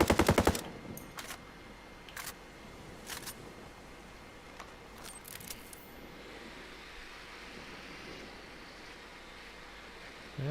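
AR-18 rifle firing full auto without a suppressor in Ghost Recon Breakpoint: a loud opening burst of rapid shots, then a few sharp isolated cracks, with a long fading reverberant tail.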